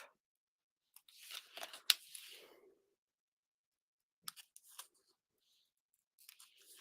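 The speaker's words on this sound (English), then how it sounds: "I'm just going to take my scissors and I am going to cut the gate" Scissors cut a paper card gate in half with a quick run of close, crisp snips and crunches, a pause, then a few shorter bursts of cutting in an otherwise quiet room.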